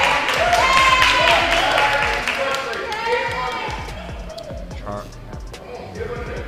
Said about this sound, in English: Hear the cheering.